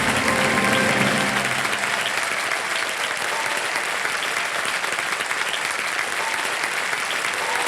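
A studio audience on the quiz show Kaun Banega Crorepati breaks into loud, dense applause that holds steady throughout, with a slightly stronger burst at the start.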